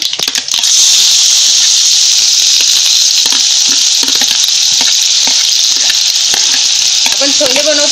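Chopped onion drops into hot oil with mustard seeds and turmeric for chana masala, setting off a loud, steady, close sizzle that crackles continuously throughout.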